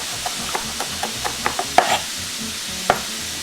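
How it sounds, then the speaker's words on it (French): Fresh garden oregano chopped quickly with a knife on a board: a series of light, evenly spaced taps over a low, steady background hum, with no talking. "Je vais hacher ça rapidement"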